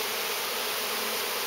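Italian honey bees swarm around a hive entrance on a bee farm, a continuous dense buzzing that stays close and fairly loud with no voices over it.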